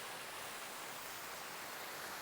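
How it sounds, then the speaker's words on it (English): Small waterfall in Austria, heard as a steady, dense rush of falling water with an even hiss and no voices. "the bonus waterfall. This one's just a little lower down than the last one."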